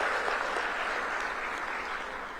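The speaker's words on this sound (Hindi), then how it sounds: "उनके लिए जोरदार तालियां बजाइए" Audience applause at a sports festival announcement event fills the space as a continuous, even roar of clapping, fairly loud and steady throughout.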